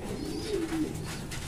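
Racing pigeons coo at the loft during a derby race, one drawn-out throaty coo rising over a steady background hiss, nearby and moderately loud.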